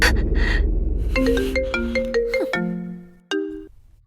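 A phone ringtone plays loud and close as a melodic sequence of electronic tones that steps downward, with a final separate chime after a short gap.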